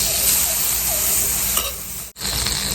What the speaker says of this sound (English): We're going to go in with about a half a tablespoon of butter.